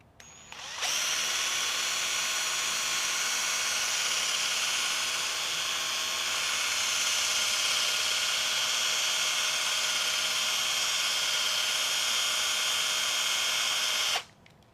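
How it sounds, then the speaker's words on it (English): A power drill spins a 1/8 scale racing buggy part for polishing, whirring steadily at high speed for over ten seconds, starting and stopping abruptly, close and loud with no talking. "Let me put it in the drill better."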